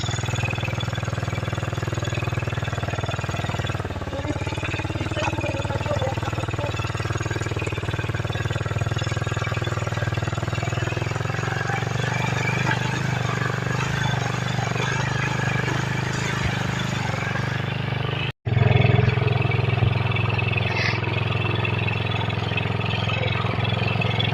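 Motorcycle engines hum at a steady idle throughout, loud and close. They cut out abruptly near the end, then come back with a brief louder burst.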